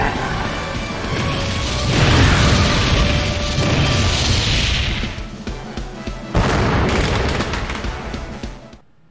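Final Color Blaster attack explodes in Sonic Colors Ultimate, a loud, sustained roaring blast with crashing impacts that fades, then a second heavy burst before trailing off.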